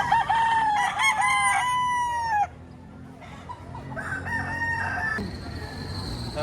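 A rooster crows twice in quick succession, loud and close, each call a long rising and falling cry, followed by quieter clucking and someone talking nearby at a poultry market stall.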